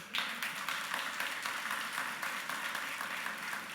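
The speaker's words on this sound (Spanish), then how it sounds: "Hay niños aplaudiendo" Children clapping during a church sermon, a continuous, fairly quiet patter of many hands beating unevenly with no voices over it.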